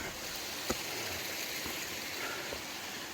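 A stream flowing along the Appalachian Trail during a thru-hike, a steady close wash of running water with a faint knock or two, no talk.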